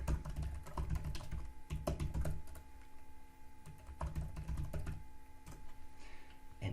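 Typing a title on a computer keyboard produces bursts of crisp, close key clicks in quick irregular runs, with a short pause midway before the tapping resumes, over a faint steady hum.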